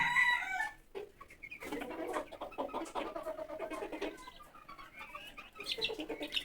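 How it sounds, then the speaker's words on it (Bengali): Chickens cluck busily close by while a rooster crows loudly, a mix of overlapping bird calls with brief quiet gaps. "এই দেখুন আমার মুরগিগুলো"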